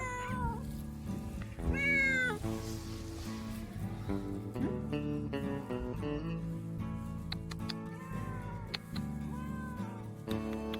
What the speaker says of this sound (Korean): 그걸 지켜보던 고양이가 계속 울어댑니다.